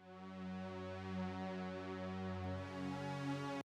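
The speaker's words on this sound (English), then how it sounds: "the string is up here, and that string sounds like this." A sustained synth string pad plays in a high register in Studio One 5, holding steady chords at moderate volume for a few seconds before stopping abruptly, with no talking.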